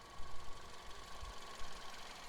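A 2019 Citroën Grand C4 SpaceTourer's turbocharged 1.6-litre inline-four petrol engine idles with a faint, steady low rumble and light mechanical ticking, with no talking.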